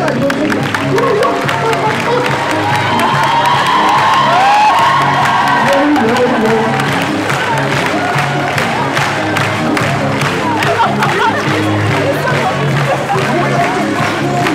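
An audience at a municipal Women's Day celebration in Rzeczyca claps and cheers steadily for the whole stretch, a dense crowd roar with whoops and voices mixed in.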